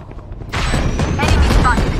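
A satchel charge blast in the video game Valorant, a sudden loud boom that rolls into a rumbling, crackling tail, with a voice calling out over it.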